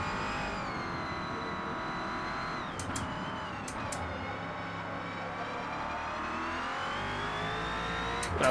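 Next Gen NASCAR race car engine at Mount Panorama in Forza Motorsport, a steady loud high-revving drone that shifts pitch through gear changes, with brief sharp clicks, running continuously with no talk.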